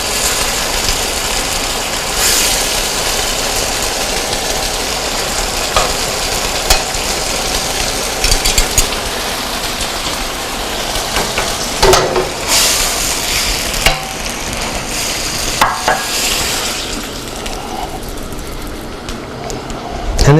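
The pan sauce for steak Diane sizzles and reduces in a pan with a continuous, busy frying hiss. Scattered scraping and clinking of tongs and utensils sound through it.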